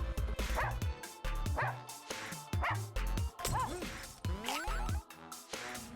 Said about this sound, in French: on peut se débarrasser des chiens aussi